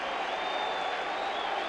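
Loud, continuous roar of a packed ballpark crowd cheering during a 1995 playoff game between the Mariners and Yankees, an even wall of stadium noise with no break.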